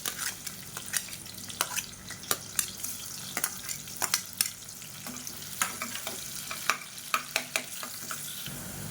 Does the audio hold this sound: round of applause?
no